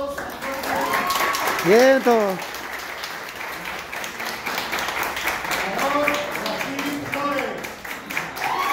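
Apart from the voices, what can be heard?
applause for two performers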